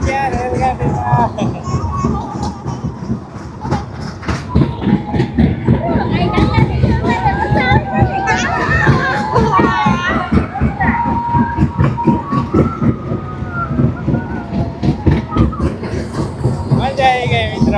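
A small toy train ride at a village fair in Botad rolls along with a steady clatter and rumble, wrapped in fairground crowd noise and people chatting nearby throughout.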